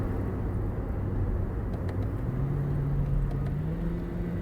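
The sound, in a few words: Toyota Yaris TRD CVT downshifting for engine braking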